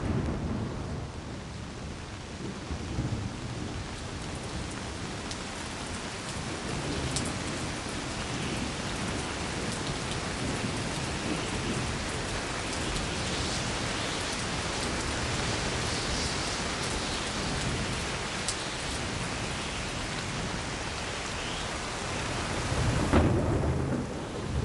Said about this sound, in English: As the rain continues pouring down on them